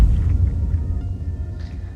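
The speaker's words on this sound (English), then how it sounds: "we'll get a great sound for exploding strawberries. Now, this is how it sounds with the low pass" Low-pass-filtered sound effect of exploding strawberries: a muffled, throbbing low rumble with soft squishy pulses, dull and bass-heavy over two seconds.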